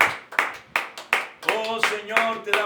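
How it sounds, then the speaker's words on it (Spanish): Church congregation clapping at a night service, a series of sharp rhythmic claps repeating about every third of a second, with a voice speaking over the later part. "Vamos a darle un fuerte aplauso a Cristo en esta noche"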